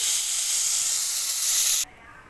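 Steady bright hiss of thin potato strips sizzling in hot oil for nearly two seconds, then dropping abruptly to a faint background hush.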